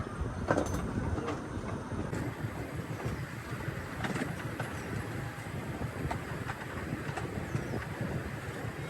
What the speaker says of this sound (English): The locomotive pulling our train today is a very detailed 1/3 scale replica of a famous steam train